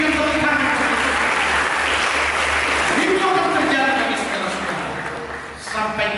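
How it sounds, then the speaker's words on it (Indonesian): A church congregation applauds during a sermon, a loud continuous wash of clapping that runs under a voice or music and tapers off toward the end. "Berikan tepuk tangan."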